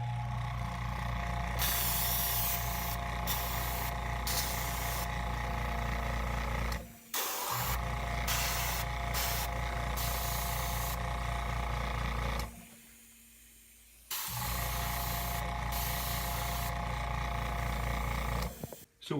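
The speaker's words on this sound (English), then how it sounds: "So we're gonna hear the compressor now" A loud, steady mechanical hum runs with a fast pulsing chatter, cutting out twice briefly before resuming, like an air compressor running close by.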